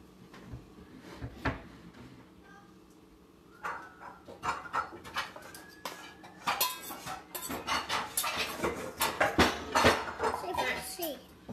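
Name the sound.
ingredients put into a bowl, dishes clinking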